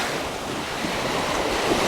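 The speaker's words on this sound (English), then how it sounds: "You have that sea breeze coming in as well." Sea breeze and surf on a beach at Naklua near Pattaya, Thailand, a steady loud wash of wind and breaking waves with microphone wind rumble, no voices.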